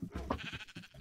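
A Minecraft sheep gives a short, quiet bleat, a brief wavering cry heard alone.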